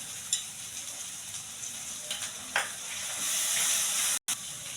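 Fried onion with ginger and garlic paste sizzles in a pan for chicken curry, a steady close hiss that grows louder toward the end, broken by a few sharp stirring clinks, with no talking.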